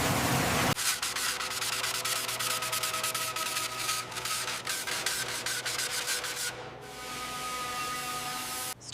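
The front plate of a heavy cargo truck being polished, a steady close rubbing and whirring with rapid scratchy texture, stopping abruptly near the end, no voices.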